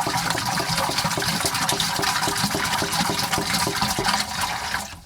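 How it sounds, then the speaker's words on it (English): About a gallon of water is poured into an aeroponic bucket's nutrient tank, a steady splashing stream that stays loud and close throughout before cutting off at the end. "I'm just going to pour about a gallon"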